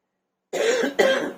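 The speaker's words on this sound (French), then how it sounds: "je vais tousser" A single close, sharp cough bursts in after half a second of silence, followed quickly by a second harsh cough.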